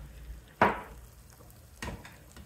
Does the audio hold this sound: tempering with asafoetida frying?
yes